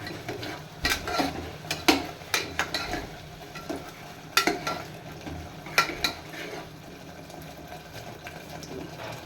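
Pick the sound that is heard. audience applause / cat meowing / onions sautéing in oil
onions sautéing in oil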